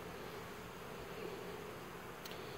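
Honeybees and yellow jackets buzz at a beehive entrance in a steady, faint, continuous drone. The hum holds even throughout with no talking.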